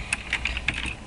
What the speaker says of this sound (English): if you hear like really loud clackety clack, of course, obviously it's my keyboard